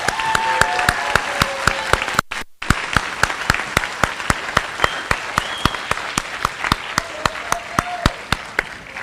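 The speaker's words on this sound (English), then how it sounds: "Let's give these students another round of applause." A school awards assembly audience claps for students, a sustained round of applause with a steady, rhythmic beat running through the crowd's clapping and a brief dropout partway through.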